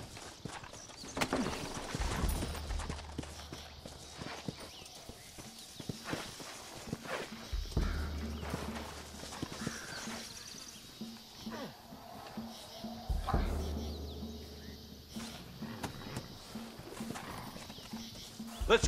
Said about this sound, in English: Looks like Carlos left us some horses.